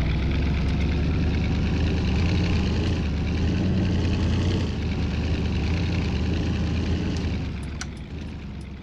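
A buggy's engine hums in Farming Simulator 2019 while it is driven through Alpine mountains, a loud, steady drone that holds constant and eases off near the end.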